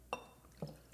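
Pre-mixed Manhattan cocktail splashing into a glass in two short, close bursts about half a second apart, with a faint clink and quiet room between them.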